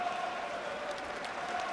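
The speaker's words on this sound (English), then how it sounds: "the home crowd rise to applaud their heroes" A home rugby crowd at a Premiership match, Gloucester against Leicester, stands and applauds: a steady, even wash of clapping heard from a moderate distance with no pauses.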